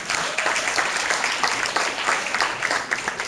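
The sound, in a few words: audience applause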